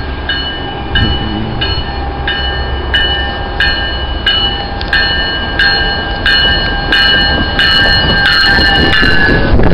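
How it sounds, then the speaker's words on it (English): Repeated ringing train bells sound at a steady pace over the deep rumble of a train at a station, loud and close, with no talking. "Hear the train bells."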